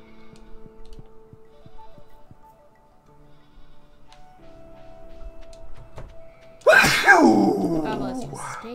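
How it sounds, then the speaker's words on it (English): A single loud, close human sneeze bursts out suddenly after quiet Stardew Valley game music and sound effects, trailing off into a short breathy tail. "That was a power sneeze."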